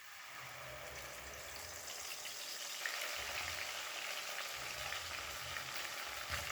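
Spice paste hits hot oil after black cumin seeds, for a rohu fish curry, with a steady, fairly loud broadband sizzle throughout and a faint low rumble underneath, no voices.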